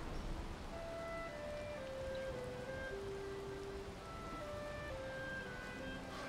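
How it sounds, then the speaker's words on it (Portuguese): Continuous rainfall pours inside a house in the Valheim game world, an unbroken hissing patter at moderate level, accompanied by a gentle melodic background tune and no speech. "tá chovendo dentro da casa"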